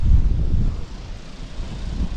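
Wind blows steadily across a sailboat anchored in Baie de Prony, New Caledonia, making a low, buffeting rumble against the microphone with no voices.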